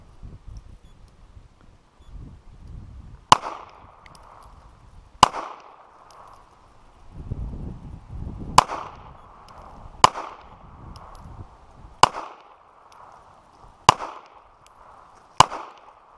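Gunshots at an outdoor gun range: seven sharp, loud reports spaced a couple of seconds apart, each with a brief ringing tail, and quiet rustling between them.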